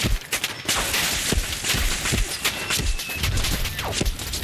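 Loud, dense gunfire from Fallout 4 with the Simply Louder Weapons mod, a chaotic barrage of rapid shots and heavy thumps running nonstop with no pauses.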